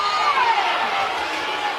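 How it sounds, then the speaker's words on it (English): Stadium crowd at a college softball game, Houston at Oklahoma, yelling and jeering at the umpires in a loud, continuous roar with scattered whoops and a shrill whistle. "the crowd is after these umpires now"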